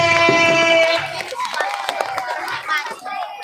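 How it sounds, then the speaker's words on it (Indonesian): Schoolchildren and adults at an Isra Mi'raj children's preaching contest at an elementary school in Gresik applaud for class 3B. The clapping swells after a brief tonal opening and continues as a dense, moderately loud patter with some voices mixed in. "Beri tepuk tangan untuk kelas 3B"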